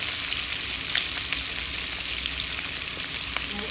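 Bitter gourd (karela) fries in hot oil with a loud, dense, steady sizzle that continues throughout, with no talking.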